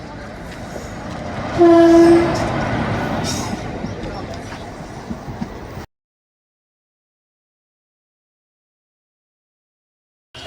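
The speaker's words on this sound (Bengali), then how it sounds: "তো আমরা এখন চাপবো ইন্টারসিটি এক্সপ্রেসে" An Intercity Express passenger train in West Bengal, its horn sounding loudly around two seconds, then sustained rumbling of the moving carriages, abruptly cut to silence partway through.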